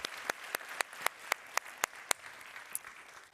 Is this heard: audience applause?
yes